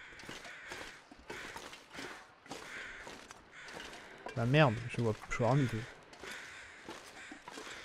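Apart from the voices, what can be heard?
crow cawing in the video game The Long Dark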